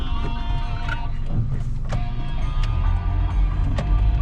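Power windows of a 2008 Toyota Vios automatic whirring as they rise, a steady motor hum with a few small clicks and thumps near the glass, no talking.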